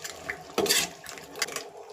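Curd stirred into chicken in a pan for a white chicken gravy, heard as a few scraping, clinking spoon strokes against the metal pan with a soft wet undertone, close and moderately loud, with no talking.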